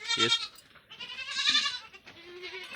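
Goats bleat close by in a tin-roofed shed, several wavering calls overlapping one after another with no talking.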